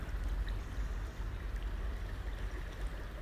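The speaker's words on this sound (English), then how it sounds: "Try and get the sound of water, always sounds relaxing." River in Congleton Park with quite a strong current, a steady close rushing and gurgling flow that stays constant throughout, with no talk over it.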